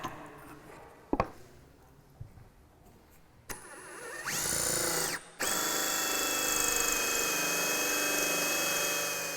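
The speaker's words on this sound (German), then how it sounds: "Mit der Lochsäge wird zunächst die Aussparung für den Stiel des Beckens hergestellt." A power drill with a hole saw bores a recess for a basin stem into a kitchen worktop in a camper van conversion, starting with brief clicks before a steady, loud whining cut that pauses briefly, then runs on continuously.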